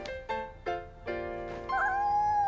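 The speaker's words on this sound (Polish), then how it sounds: "To jest kotek, mały kotek!" A small kitten in a Caillou cartoon meows several times, short high cries building to a longer, wavering mew, close and clear with no talk.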